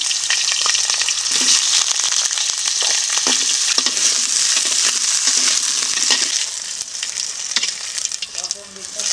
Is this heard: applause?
no